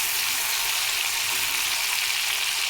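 Tomatoes sautéing in a pan for garlic chutney, a steady, even sizzle and hiss of frying running close and unbroken throughout.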